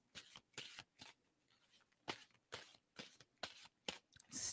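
Tarot cards are shuffled by hand in a run of crisp riffling bursts. About a dozen short, close, rhythmic flurries are separated by brief pauses, with no talking.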